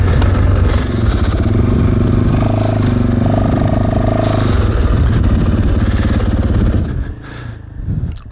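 Fantic 450 Rally motorcycle climbing a steep enduro slope, its engine loud and close, a continuous labouring drone that holds steady under load, then fades slightly near the end.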